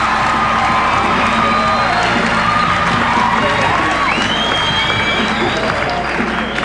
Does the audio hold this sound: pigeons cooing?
no